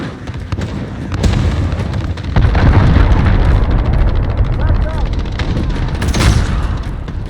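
Cruise missile strikes in Call of Duty: Modern Warfare ground war: a loud barrage of booming explosions and crackling gunfire, dense and continuous, with game voices breaking in over the din.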